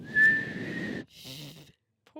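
A person attempts to whistle, giving a steady breathy tone for about a second over noisy background, followed by a short burst of talk-like sound.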